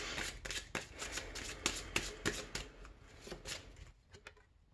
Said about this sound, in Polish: I teraz brakuje nam jeszcze karty z przesłaniem, którą ja tutaj wyjmę